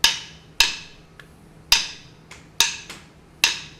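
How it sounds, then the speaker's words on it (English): Sharp wooden clave strikes tap out a 2/3 son clave pattern in a Latin jazz lesson, five crisp, bright clicks per cycle, close and alone with no talking. "A 2/3 clave sounds like this."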